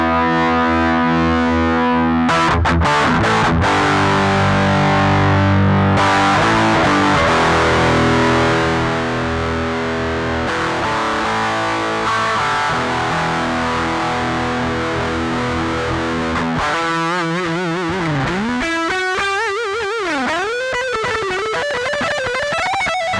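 An electric guitar runs through a distortion pedal with the gain turned all the way up, playing loud, dense, saturated chords and notes that ring out continuously and bend near the end.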